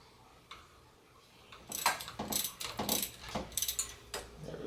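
A ratchet with a hex extension drives a bolt into the bottom of a RockShox Quadra 21 suspension fork. Quick bursts of close, crisp clicking repeat for several seconds after a quiet start.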